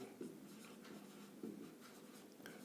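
A pen scratches out a handwritten math solution for a class 10 geometry problem, steady close writing strokes with a couple of firmer marks and no talking.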